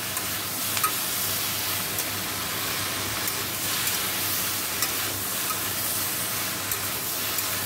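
Bengali mixed-vegetable curry of papaya, pointed gourd, teasel gourd, eggplant, potato and ridge gourd, with panch phoron, dried red chili, salt and turmeric, sizzles and hisses steadily in a wok as it is stirred, with faint scrapes and no talking.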